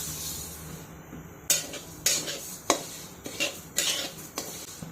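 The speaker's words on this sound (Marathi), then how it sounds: "पण जिरे परतून घेऊयात।" Cumin seeds roast in a pan over a low flame, with several sharp metallic clinks and scrapes of a spoon stirring against the pan over a faint background hum.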